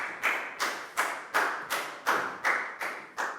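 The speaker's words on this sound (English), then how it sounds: "High five and a big round of applause for Net" A class of Year 4 pupils claps together for a classmate in a steady, rhythmic beat of about nine sharp, even claps, moderately close, with no talking.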